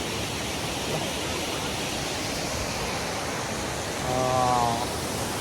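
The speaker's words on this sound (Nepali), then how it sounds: "यहाँनिर खोला रहेछ" A steady broadband rush of a mountain stream below a suspension bridge near Ghandruk, Nepal, fills the scene, constant and moderately loud, with a brief tonal voice-like sound near the end.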